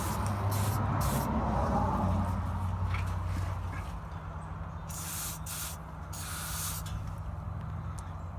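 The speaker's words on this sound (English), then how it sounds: "you spray WD-40 on the band clamp, on the clamp bolts" A WD-40 aerosol can hisses in a steady, continuous spray close by onto exhaust band clamp bolts under a truck, with brief louder bursts as the spray starts and stops.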